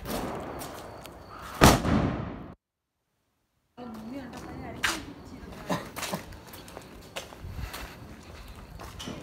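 Diwali firecrackers going off: one sharp, loud bang early, a brief lull, then a string of smaller scattered pops and cracks over background voices.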